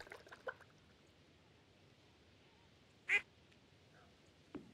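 A single sharp quack from a duck in the video game Stardew Valley sounds midway through a quiet farm scene, surrounded by a few soft splashy clicks and faint background ambience.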